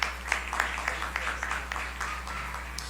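A small audience at a singing audition claps, faint, scattered hand claps over a steady low hum lasting a few seconds.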